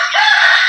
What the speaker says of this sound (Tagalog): mga alagang manok